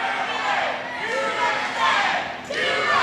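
Wrestling arena crowd at a live pro wrestling event jeers a wrestler, a loud sustained roar of many voices swelling and dipping, with a commentator's voice over it.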